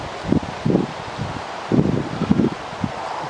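Outdoor wind buffeting the microphone in irregular low gusts, rising and falling in short bursts with a steady rushing bed beneath.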